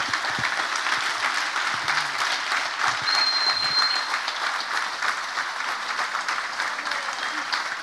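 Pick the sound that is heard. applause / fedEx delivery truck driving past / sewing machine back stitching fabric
applause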